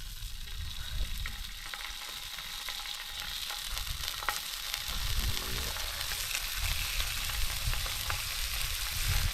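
Bacon and eggs sizzle in a pan at a bush campsite, a continuous dense crackling and hissing fry that holds steady and close throughout, with no one speaking.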